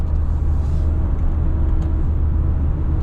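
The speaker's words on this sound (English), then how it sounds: "You can hear that little bit of wind noise." Cabin of a 2024 Toyota Tundra TRD Off-Road cruising at 70 mph in tenth gear around 1500 RPM, a steady low road rumble with a soft airy wind hiss over it, constant and unbroken.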